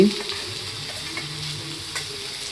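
Garlic paste, chopped tomato and green chilies frying in a pan for a sea popa fish curry, a steady dense sizzle with faint stirring scrapes, close and continuous.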